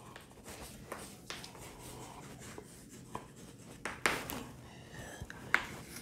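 A pen or marker scratches out a math solution in soft, intermittent strokes, with a few sharper taps at one point, close and quiet.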